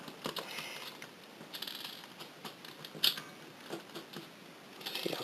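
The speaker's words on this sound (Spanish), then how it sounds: "solo tendríamos que destornillar estos dos tornillos que tiene" A small screwdriver works on tiny screws while a Nintendo 2DS is taken apart, making faint, close clicks and light scraping ticks in an irregular rhythm, with one sharper click near the middle and no talking.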